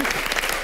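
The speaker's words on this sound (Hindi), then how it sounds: "भारती करण के लिए जोरदार तालियां" A studio audience at a Hindi TV comedy show claps loudly in a brief burst of dense applause.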